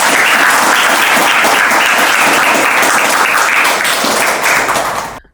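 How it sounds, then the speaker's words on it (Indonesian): An audience of vocational high school students at a tutoring studio claps loudly and steadily, a dense, close wash of many hands that holds for about five seconds and then cuts off abruptly. "beri tepuk tangan dulu buat"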